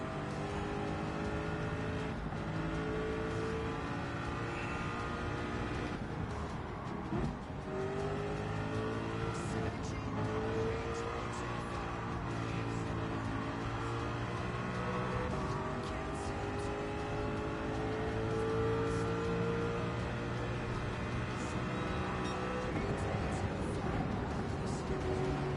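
A German race car in Gran Turismo 7 drives a multi-lap race, its engine droning steadily and rising and falling with gear changes, while other cars pass nearby.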